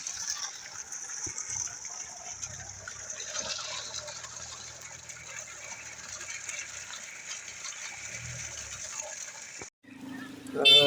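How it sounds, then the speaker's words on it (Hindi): Cold water from a mountain spring in Azad Kashmir, dammed with dug stones, runs in a steady soft gush for most of the time before cutting off briefly and returning louder, with faint low sounds underneath. "पानी का चश्मा"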